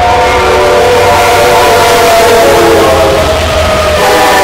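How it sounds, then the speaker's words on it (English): Train passing close by in Oxnard with a steady loud rumble, its whistle sounding in sustained layered tones throughout. "after the train gets here, I guess."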